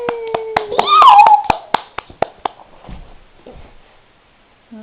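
A child and adult clap hands at home in a short run of sharp, close claps, about eight in a loose rhythm, with a voice cheering over the first few before the claps thin out into quiet.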